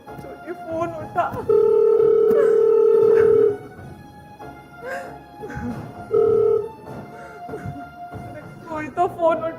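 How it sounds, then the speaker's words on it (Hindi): Unanswered telephone giving a long loud electronic ring followed later by a shorter one, close by, with people talking around it. "कोई तो फोन उठाओ।"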